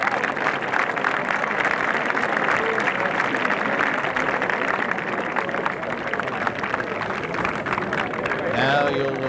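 Golf gallery applause during the final round of the 1984 Masters Tournament, a sustained roar of clapping under a commentator's voice, with another voice near the end.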